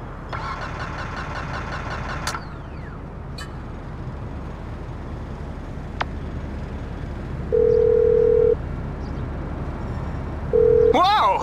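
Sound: phone ringtone in GTA 5 video game

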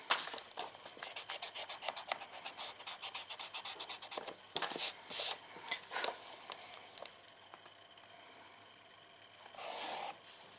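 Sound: rubbing out pencil lines on paper

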